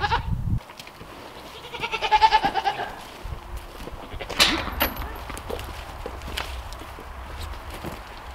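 Goats bleating on a farm, a close, wavering bleat rising and falling in pulses, with shuffling footsteps and small knocks around it and no speech.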